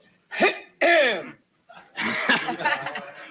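Two short throaty rasps of throat clearing, close and fairly loud, followed by a stretch of voiced, chuckling vocal sounds.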